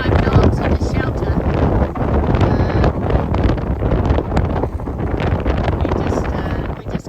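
Strong Meltemi wind gusting at 35 knots buffets a boat, roaring loud and continuous with heavy microphone buffeting across the whole stretch.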